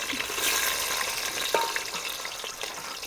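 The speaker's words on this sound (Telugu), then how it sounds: "నూనె అయితే మంచిగా వేడైంది పచ్చిమిరపకాయలు ఉల్లిగడ్డలు అయితే వేస్తున్నాను" Green chillies and onions crackle and sizzle as they hit hot oil while a country chicken curry is being cooked. The close, steady frying hiss carries a few stirring scrapes and small pops, and no one speaks.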